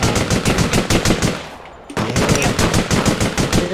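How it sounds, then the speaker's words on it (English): Rapid automatic gunfire rattles in the online shooter APB Reloaded, dense and loud, with continuous bursts broken by one brief pause before firing resumes. "They're gonna shoot each other in there."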